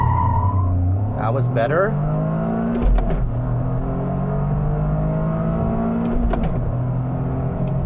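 A 2023 Toyota GR Corolla with all-wheel drive in a 30-70 torque split launches hard down a straight, its engine climbing through rising harmonic sweeps with gear shifts, loud and close, while people talk over it.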